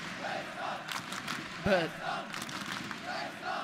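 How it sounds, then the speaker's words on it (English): A packed esports arena crowd at a CS:GO semifinal at ESL One Cologne 2017 chants and roars in rhythmic waves, with someone commentator briefly speaking over the steady din. "The crowd know who they want in those finals."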